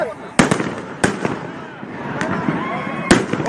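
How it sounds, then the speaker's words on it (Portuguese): Fireworks bursting at a nighttime street demonstration, several sharp loud pops spaced apart over a continuous crowd murmur, with people shouting nearby. "Olha aí, olha o ângulo dos fogos!"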